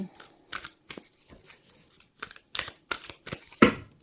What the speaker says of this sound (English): I'm going to do a few more shuffles here, and then I'll lay everything out.